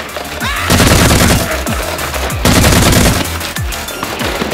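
Rapid bursts of Nerf blaster fire aimed at a clown, loud and close, coming in repeated volleys of quick shots with brief gaps between them and no talking.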